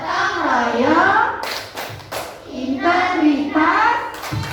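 Schoolchildren in an Indonesian classroom clap a rhythmic patterned chant with their teacher, sharp hand claps in short bursts mixed with chanted voices.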